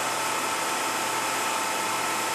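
A Daewoo ACE-H100 horizontal machining center with 39.4-inch pallets runs its spindle at a steady 2000 RPM. It gives a constant loud mechanical hiss and whir with no change in pitch, heard on its own.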